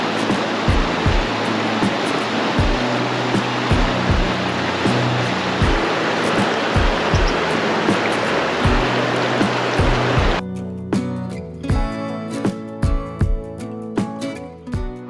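Seattle Creek rushes past a campsite along the Denali Highway in Alaska, a steady close wash of flowing water that drops away abruptly near the end, leaving a quieter, tonal background.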